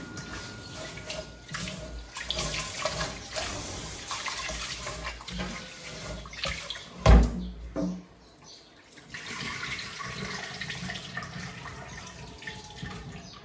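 Water gushes steadily from a tap, a broad hiss that splashes and surges briefly midway before settling back into a continuous flow.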